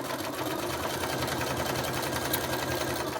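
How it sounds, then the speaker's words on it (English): A sewing machine stitches over an invisible zipper on trousers, a loud steady rapid mechanical whir with no pauses or voices. "what you're going to do is just sew over"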